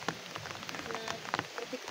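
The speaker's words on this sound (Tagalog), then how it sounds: "ulan." Rain pattering steadily on a surface outdoors during a dig in the Philippines, a dense hiss of close drops with scattered louder taps, a little faint talk mixed in.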